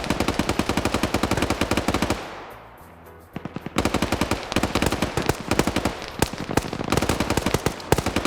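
Rapid bursts of M249 light machine gun fire in a competitive first-person shooter match, loud and close, with a short lull midway before the sustained automatic firing resumes.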